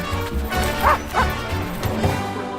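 A dog barks twice in quick succession in a Greenies dental treats advert, the short yips close and clear over a steady low music bed.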